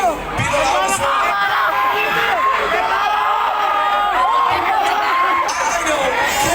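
A convention crowd at CONQUEST 2022 shouts, whoops and cheers loudly and continuously, a dense roar of many voices with scattered individual yells rising above it.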